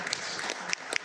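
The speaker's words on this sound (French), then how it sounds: "C'est pas la peine d'applaudir encore." An audience at a lecture on the human soul breaks into a short burst of applause, with a few sharp individual claps standing out over the brief patter.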